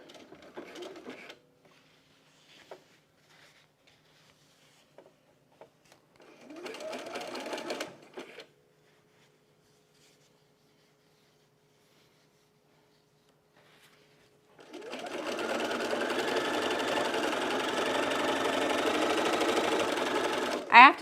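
A sewing machine stitches a bralette in short bursts early on, then runs in one long, steady whirring stretch near the end, with quiet gaps in between and a voice talking.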